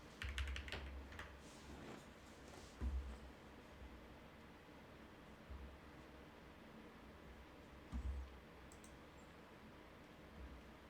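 Faint typing on a heavy PC keyboard with soft clicks and occasional heavier thumps, quiet against a low background hiss.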